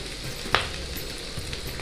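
Grated coconut fries in hot oil with green chilies and curry leaves, a continuous soft sizzle close by, broken once by a sharp spoon click.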